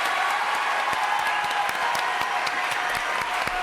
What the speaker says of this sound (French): Applaudissements de la foule en délire.